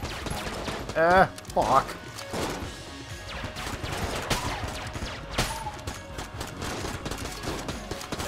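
Rapid gunfire bursts and impacts from the bullet-hell video game Enter the Gungeon crackle over game music, with a chandelier triggered by bullets; someone talks and swears over the action.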